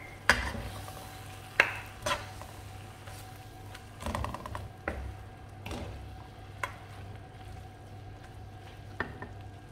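Water spinach being stir-fried in a pan after water is added, a low steady sizzle with intermittent scraping and clattering strokes of a utensil, close and without talk.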